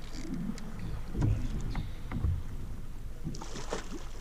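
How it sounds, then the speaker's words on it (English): A fishing boat trolling five lines passes about 10 to 15 feet away, its motor a low steady rumble with soft water wash throughout, swelling slightly and then easing, with no voices. "You can hear a boat."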